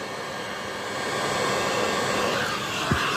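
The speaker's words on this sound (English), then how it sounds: "and then I've got a hot air gun, and you start by just heating either side" A hot air gun blows steadily as it heats red heat-shrink bands on wire during a Land Rover camper conversion, giving a continuous, close, even whooshing roar with no talking.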